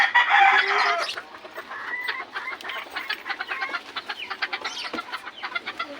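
A chicken lets out a loud, drawn-out squawk, then settles into rapid, rhythmic clucking that carries on steadily nearby.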